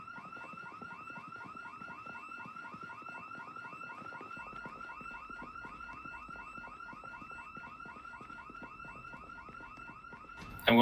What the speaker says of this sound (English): I accidentally set a house alarm on again.